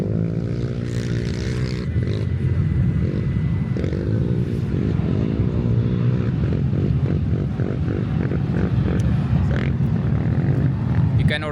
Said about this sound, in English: The sound of the engines going up on the sand dunes is insane.